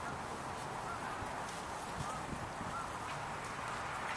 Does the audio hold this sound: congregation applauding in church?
no